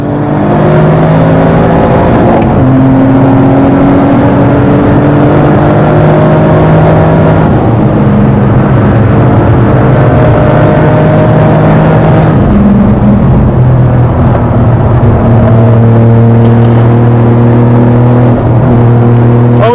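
A fast Toyota Yaris engine rising and falling as the car drives past, loud and close under strong wind and road rumble, the engine note climbing through gears with no talk.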